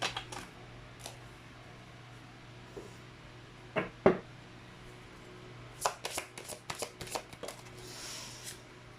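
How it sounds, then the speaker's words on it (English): Tarot cards are shuffled and handled in short, crisp bursts of riffling and tapping, quiet and close, set apart by pauses over a low steady background hum. "let's try to pull up another set of cards"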